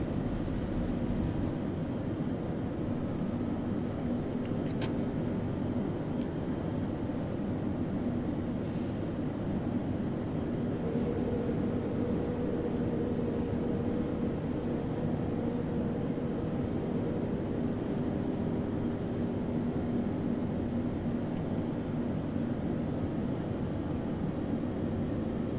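Airplane engines spooling up for takeoff in Flight Simulator X give a steady, loud, broadband roar with a low hum. It holds at an even level throughout, with no speech.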